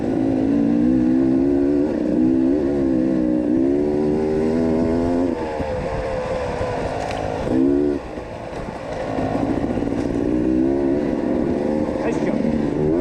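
Dirt bikes, a Honda CRF450X and a 300 two-stroke, ride Idaho single track with a loud, continuous engine drone rising and falling through revs close by, with wind noise and a brief dip near the middle.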